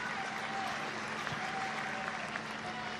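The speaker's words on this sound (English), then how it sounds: "Crowd starting to get a little bit excited as Fraser aims one goalward" Football stadium crowd at a women's A-League match, Wellington Phoenix against Melbourne Victory, a steady broad roar of distant spectators swelling slightly with excitement, continuous through the whole stretch.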